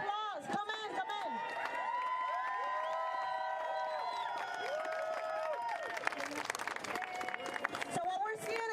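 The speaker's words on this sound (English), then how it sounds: "Let's give them a big round of applause." A crowd of protesters outside the Supreme Court claps, cheers and whoops in a loud, sustained burst, with shouting and chanting voices layered throughout and some people talking nearby.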